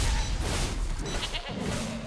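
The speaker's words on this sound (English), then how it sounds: "These are goats." Goats bleating in the Tokyo Jungle video game, a couple of nasal bleats over a dense, rumbling game soundscape, fairly loud and without speech.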